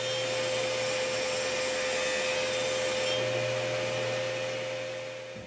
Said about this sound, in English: And I'm going to be doing that on my table saw.